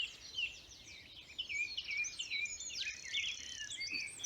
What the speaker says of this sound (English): he picks a phrase, then repeats it 3 or 4 times, and then picks a different phrase, repeats it 3 or 4 times.